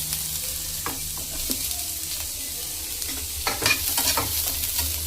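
Onion frying in a pan for a mutton kala masala, stirred with a spatula: steady close sizzling under repeated scraping strokes, a busier stretch of stirring near the end, no voices.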